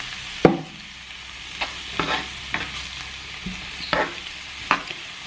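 Vegan Chinese fried jackfruit sizzles in a pan, with a steady low fry under the louder sounds. Five or six distinct scrapes and stirring knocks come at irregular intervals, close and fairly loud, and there is no speech.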